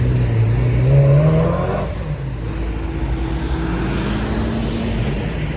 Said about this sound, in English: I'll wait for this truck to get past